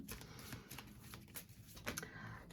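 Rapid papery riffling of cards being shuffled, a dense flutter with a few sharper snaps, fairly close and steady throughout.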